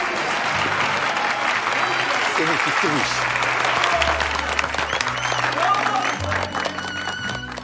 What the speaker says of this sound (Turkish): Alkışlarınızla Tülin.